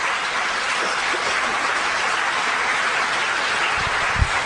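A church congregation claps together in a dense, steady wash of applause that holds throughout, with a couple of low thumps near the end.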